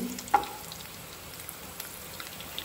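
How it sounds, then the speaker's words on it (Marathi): Cashews fry gently in ghee, giving a soft, quiet sizzle with scattered tiny pops and one brief louder clink near the start. "ड्रायफ्रुट्स जे आसा पळय काजू बीन सामके अशे गोल्डन ब्रावन करपाचें ना. मातशें तळसून घेवपाचें"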